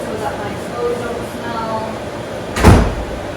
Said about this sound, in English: So I'm gonna close my bedroom door so that my clothes don't